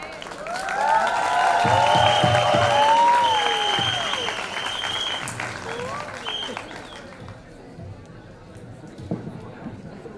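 College audience at a National College event with Bollywood guests claps loudly and cheers, with whoops and shouted voices over the applause, which swells early and then fades away toward the end.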